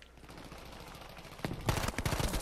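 Gunfire in the shooter game Battlefield 5, a quick burst of rapid shots erupting after a quiet stretch, moderately loud against faint background game noise.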